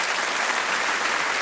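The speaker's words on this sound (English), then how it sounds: "Give them a round of applause." A studio audience at a television game show applauds, a dense, steady clapping close and loud throughout.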